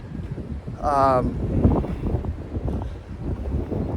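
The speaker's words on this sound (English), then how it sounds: "there goes that wind again" Outdoor wind buffets the microphone with a continuous low, rumbling roar that swells and eases. A brief wavering whine cuts through near the start.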